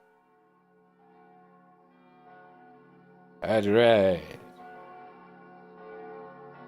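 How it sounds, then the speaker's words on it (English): Church bells ring out in a loud burst of rich, overlapping tones lasting about a second, set against quiet sustained music, with a brief spoken remark nearby. "Hear the bells?"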